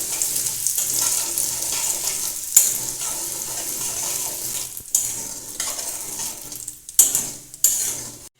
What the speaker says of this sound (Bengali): সুজিটা ভেজে নেব একটু